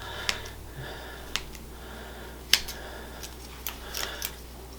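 A few quiet, sharp snips of scissors cutting decorative slashes into king cake dough, spaced irregularly over a low steady hum, faint and close, with no talking.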